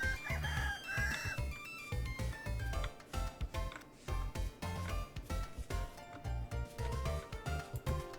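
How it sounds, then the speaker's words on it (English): A chicken in the Vintage Story video game clucks and crows in rapid choppy bursts over a thumping, busy background, fairly loud and repeated throughout. "Chase the chicken to the hole."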